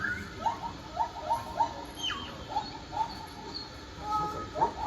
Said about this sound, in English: Each whale sings a song.